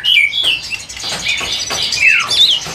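A caged songbird at a bird keeper's small house in a narrow alley chirps and whistles close and loud in quick, repeated bright phrases, with no talking.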